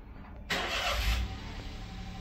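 A car engine turns over and catches, a sudden loud burst of broadband noise that settles into a steady running rumble, close by with no talking, outside a rented house in Japan.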